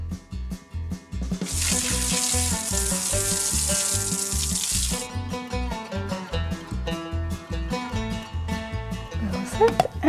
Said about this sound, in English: Let's add some water to the kettle.